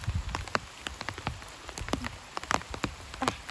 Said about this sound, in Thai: ตอนนี้ฝนตกลินนี่พี่น้องฝนตก